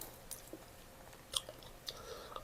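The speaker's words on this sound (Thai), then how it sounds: "กินกับอันนี้โอ้ กรอบเข้ากันขนาดเด้อพี่น้องเนี่ย" Close chewing of crunchy raw vegetables eaten with spicy beef salad (koi): faint, steady mouth sounds broken by a few sharper crisp crunches.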